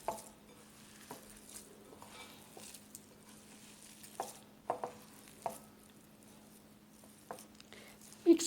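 Chapli kabab ingredients being mixed by hand with white flour in a bowl: faint, irregular soft pats and squelches with occasional light knocks of a bowl, close and quiet.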